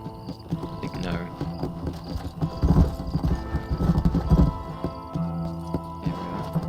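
Horse hooves clip-clopping steadily at a ride in Red Dead Redemption, close and rhythmic, over faint insect and cricket ambience with a brief whinny, while someone talks quietly over it.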